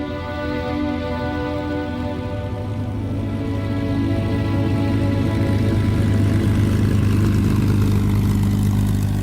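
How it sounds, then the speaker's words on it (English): Aircraft engines starting at dawn build into a loud, steady droning roar that swells slightly as it goes, with no voices over it. "at dawn, the engines would start"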